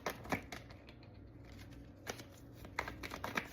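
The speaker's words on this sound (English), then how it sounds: "These cards are shuffling weird." Tarot cards being shuffled give quiet, scattered clicky bursts of riffling and tapping with short pauses between them, close and faint, with no talk.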